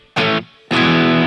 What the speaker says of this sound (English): It's got a plate reverb